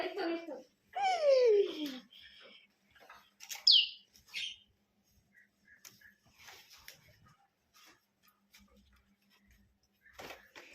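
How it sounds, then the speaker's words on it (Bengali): A small tailorbird loose inside a house chirps in quick bursts of sharp, high tweets, loudest early on and again briefly midway. Quieter scattered sounds of the room fill the gaps. "টুনটুনি পাখি আমাদের ঘরে এসে"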